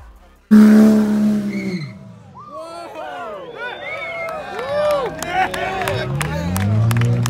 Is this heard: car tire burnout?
yes